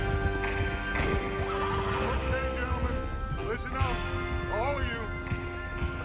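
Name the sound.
horses ridden by the gang in video game Red Dead Redemption 2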